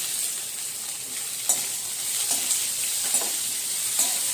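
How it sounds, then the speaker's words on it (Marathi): Chopped onion hits hot oil spiced with cloves, peppercorns and star anise for tomato rice, giving a continuous bright sizzle with a few light clinks of a spoon, close and steady, no voices. "आता आपण कांदा टाकूया।"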